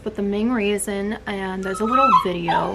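A pet dog whimpers and yips in high, wavering cries at close range, while someone talks over the sound in a home setting.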